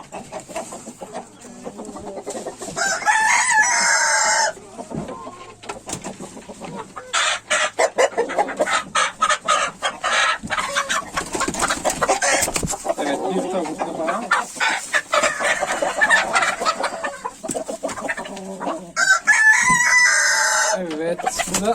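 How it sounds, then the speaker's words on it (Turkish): Chickens cluck and squawk busily throughout, close by, while a rooster crows loudly at the start and again near the end. "Ben yakalayayım bu tavukları."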